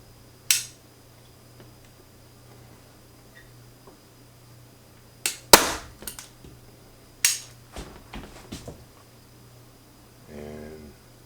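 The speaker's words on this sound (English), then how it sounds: "and put a staple in." A staple gun drives staples into speaker grill cloth on an AR-6 speaker, several sharp snapping shots spaced a few seconds apart against a quiet room hum, followed by a brief rattle.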